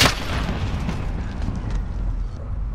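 A military shooter video game's drone opens fire during an air strike, producing a sharp blast at the start followed by sustained rumbling booms and explosions that roll on loudly throughout.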